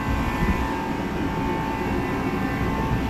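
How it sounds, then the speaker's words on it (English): A 2003 Polaris Edge X snowmobile engine running nearby, a steady loud droning hum with a constant tone and no pauses. "But I got this fucking snowmobile here."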